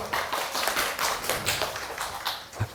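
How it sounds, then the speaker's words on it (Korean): Children in a class applaud a classmate with brisk, fairly close clapping in uneven rapid pulses over roughly three seconds. "박수"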